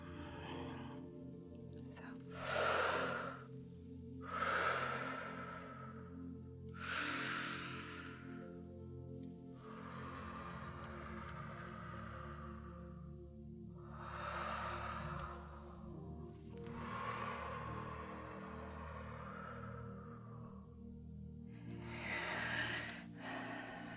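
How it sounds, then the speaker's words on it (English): Slow deep breaths during a calm Reiki session, several long inhales and exhales spaced a few seconds apart, close and soft with faint hiss between them. "Let's take a few deep breaths."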